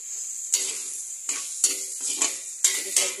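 Vegetables such as carrots sautéing in a pan, with a steady faint sizzle and several sharp stirring clatters of a utensil against the pan at irregular intervals.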